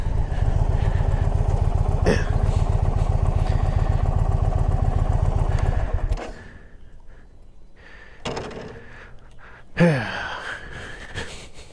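A parked motorcycle idles with a loud, steady, even throb for about six seconds, then the engine shuts off, leaving near-quiet with a few faint clicks and rustles.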